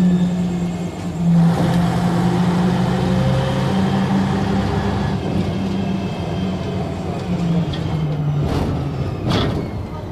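An Ikarus 260.30M city bus drives through Budapest, heard from inside, with a loud, steady engine drone and rumble whose pitch shifts as it gears and accelerates, plus rattles and a few sharp clunks near the end.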